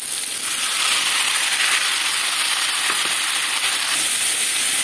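Boiled cabbage tipped into chicken frying in a hot pan gives a loud, steady, close sizzle that holds without a break, with faint stirring scrapes underneath.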